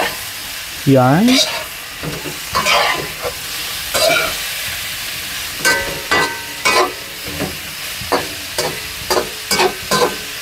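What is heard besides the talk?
sautéing and stirring food in a pan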